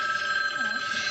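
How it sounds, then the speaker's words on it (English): A telephone bell rings continuously in a scene from the 1978 film Halloween, a bright sustained metallic trill that stays steady and prominent for the whole moment. "The phone keeps ringing."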